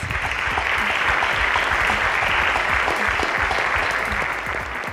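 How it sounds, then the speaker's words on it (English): An audience applauds a girls' school quiz team after a correct answer in a televised competition, steady, full clapping from a crowd that stays even and close throughout before easing slightly at the end. "A round of applause for Nigerian Tulip."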